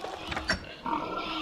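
Short snorting pig grunts, a few quick bursts over a faint background, with a synthetic game-like quality.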